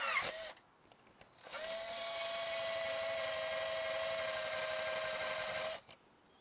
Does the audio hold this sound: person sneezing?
no